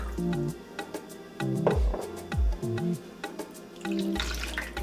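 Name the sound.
rinsing a can with water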